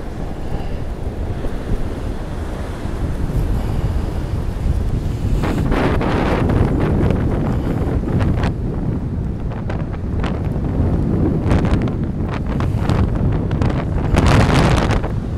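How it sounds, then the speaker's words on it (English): Rough sea surf roars and crashes under strong gusting wind at Virginia Beach during Winter Storm Izzy in 2022, a loud continuous rumble with heavy wind buffeting on the microphone and no voices. "Yes, sir, that sea is angry."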